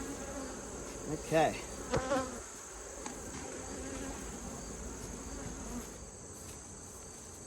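Honeybees drone around an open hive during a fall inspection, a steady soft buzz with a few brief louder passes near the start and one short spoken word.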